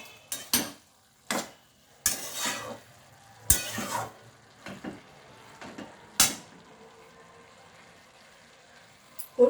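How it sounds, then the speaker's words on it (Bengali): Tomato being stirred into boiled cabbage in a cooking pan, a series of separate scraping, clattering strokes of a utensil against the pan with soft sizzling between them, close and fairly loud. "তো এখন আমি এই টমেটোটা বাঁধাকপিটার সাথে মিশিয়ে নেব।"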